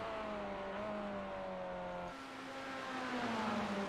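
A Chevrolet Corvette C8.R race car engine at Watkins Glen International in a racing game, a steady high-revving whine that drops briefly at an upshift and then climbs again under full throttle.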